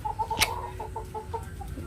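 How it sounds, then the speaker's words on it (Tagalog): A chicken clucks in a quick series of short, close calls, with one sharp louder squawk near the start. "May ligaw na manok dito."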